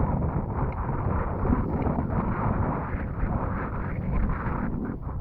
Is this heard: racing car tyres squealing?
no